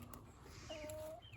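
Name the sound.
meat chickens clucking in their pen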